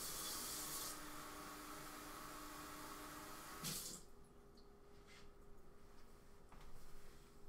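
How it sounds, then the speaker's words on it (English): A cup of cold water is poured or run from a tap while making cotton candy syrup, a bright rushing splash for about four seconds that then cuts off, leaving faint handling noises. "So now what it calls for is to add a cup of cold water."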